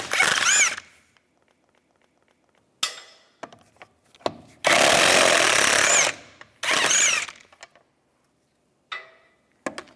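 Bursts of a power tool fitted with a 17mm socket spin off the lug nuts on a 2007-2013 Mini Cooper, several loud whirring runs of one to two seconds separated by quiet gaps and soft clanks.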